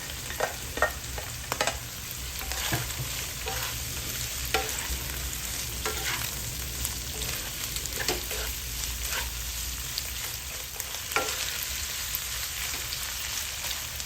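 Tofu frying in a pan with garlic and onion for vegetable egg rolls, giving a continuous crackling sizzle broken by scraping stirs of a utensil at irregular intervals, steady and close, with no talking.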